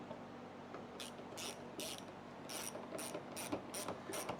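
A ratchet wrench tightens bolts in a crisscross pattern on a 2006 Outlander 800 ATV, making a quick run of crisp, regular clicks. The clicks come in short bursts, faint against a steady background hum.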